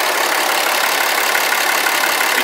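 A 2012 RAM 2500 SLT 4x4 with the Cummins 6.7L diesel idles in a steady, even hum, held close and constant with no voices over it.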